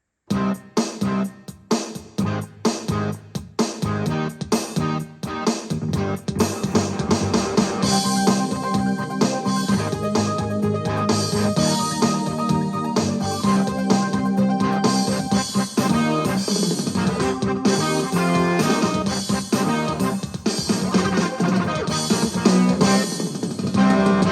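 Recorded chords from a Casio CTK-691 electronic keyboard play back in a steady progression, full and sustained, with no voices over them.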